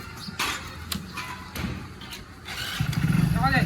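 A motorbike starts after a few sharp knocks and clatters amid talk, then its engine catches into a close, steady low rumble for the last second.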